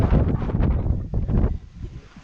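Strong wind buffets the microphone outdoors on the slopes of Hibok-hibok on Camiguin, a steady low roar with gusts that slowly eases toward the end.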